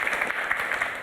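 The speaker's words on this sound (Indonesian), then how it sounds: "beri tepuk tangan dong untuk ketiga sahabat dan satu sudah cerita." Brief burst of audience applause in a talk-show setting, moderate and even clapping from a group, heard alone without speech.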